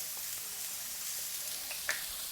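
Marinated lamb chops sizzle steadily in hot oil in a home kitchen pan, a soft continuous hiss with a brief crackling pop near the end.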